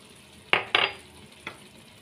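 Bean sprouts cooking in a pan with coconut milk, a little water, soup seasoning and salt, stirred in two quick scraping strokes followed by a lighter tap, close and quiet.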